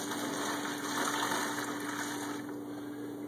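Homemade laundry detergent pours steadily from a pan into a container over a kitchen sink, a continuous close liquid gush with a faint steady hum beneath it.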